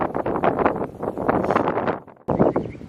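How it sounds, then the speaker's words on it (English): Gusty wind buffets the microphone at a wind farm along the Pacific Crest Trail near Cabazon, a loud broadband roar that surges and rolls, drops briefly near the end, then returns strongly. "So windy this morning"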